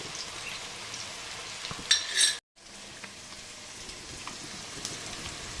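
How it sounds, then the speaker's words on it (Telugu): Beans and onions frying in oil in a pan: a continuous crackling sizzle with a few metallic utensil clinks, and a short break partway through. "ఇప్పుడు ఆయిల్లో ఫ్రై అవుతున్న బీన్స్ని ఆనియన్స్లో పాటు"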